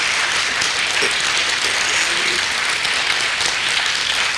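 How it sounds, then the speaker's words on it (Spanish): Lecture audience at a talk on wildlife conservation and management in Mexico breaking into loud, dense applause that carries on evenly for several seconds, close by and with no speech. "le damos un fuerte aplauso al doctor Servín"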